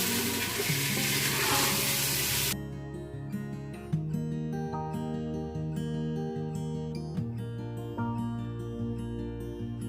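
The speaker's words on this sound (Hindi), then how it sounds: "और अच्छे से मिक्स करेंगे।" Soaked chana dal stirred and mixed in a pan for a dhaba-style dal fry: a loud rush of scraping, sizzling noise for the first couple of seconds, then steady background music with the stirring faint beneath it.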